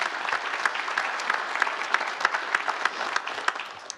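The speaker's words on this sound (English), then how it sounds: "It's worth applause." Applause at a medal ceremony honoring artist Yoko Ono, a fairly quiet, even patter of many hands with a few sharper individual claps standing out.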